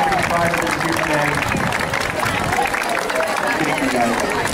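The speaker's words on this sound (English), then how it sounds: "And a round of applause for the Winnacunnet High School ROTC" A crowd applauds the Winnacunnet High School ROTC with steady, continuous clapping mixed with cheering and chatter, loud and close throughout.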